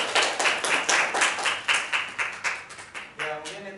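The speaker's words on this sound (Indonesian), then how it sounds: "Terima kasih Mas Rafael, tepuk tangan dulu" A small classroom group claps in a microteaching session, giving a rhythmic, fairly quick run of claps near the listener that fades as a voice begins speaking at the end.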